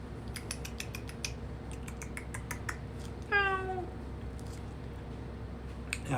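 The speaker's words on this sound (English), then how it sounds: "We got a house cat, Jack." A house cat gives a single short meow partway through, close and clear against low steady background hum, with scattered small clicks before it.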